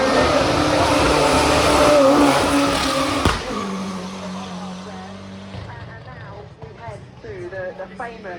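A drift car at the Goodwood 2024 hill climb roars loud and close as it brakes hard and slides sideways uphill, the engine and tyre noise cutting off after about three seconds, then a commentator talks over a quieter engine.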